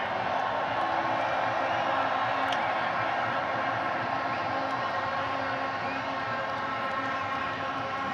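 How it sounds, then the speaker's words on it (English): A large crowd at a T20 World Cup final cricket celebration gives sustained, steady applause and cheering for Rohit Sharma and his team, loud and continuous throughout. "Round of applause one more time for Rohit Sharma and his men."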